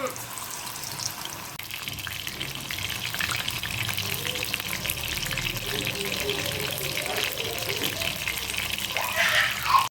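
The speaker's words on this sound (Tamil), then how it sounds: "எண்ணெய் சூடாயிடுச்சு நம்ம மீன் பொரிச்சு எடுத்துக்கலாம்" Fish pieces deep-frying in hot oil for fish 65, a steady broadband sizzle and crackle running throughout at close range, with no one speaking.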